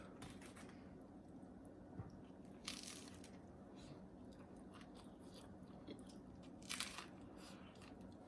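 Close, quiet crunching and chewing as someone bites into a Taco Bell taco, a few sharp crisp bites standing out over steady soft mastication noise.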